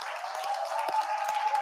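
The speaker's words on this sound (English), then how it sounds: "Give that a round of applause." An audience at a live entrepreneurship event applauds, a dense, steady wash of many hands clapping together, fairly loud and even throughout a short burst.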